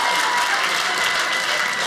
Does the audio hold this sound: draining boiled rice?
no